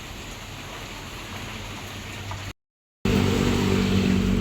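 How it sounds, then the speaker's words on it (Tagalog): Light rain, a drizzle during rainy weather, makes a steady close hiss that cuts out for a moment and then returns slightly louder, with no voices. "parang ambon na lang po"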